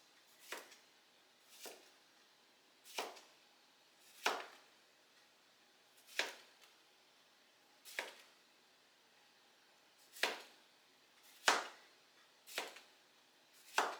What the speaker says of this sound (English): then you just cut them into slices